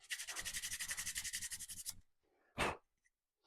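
Sandpaper rubs over wood during a vintage truck canopy restoration: about two seconds of quick, rhythmic back-and-forth strokes, close and fairly quiet, then a pause and one short scrape.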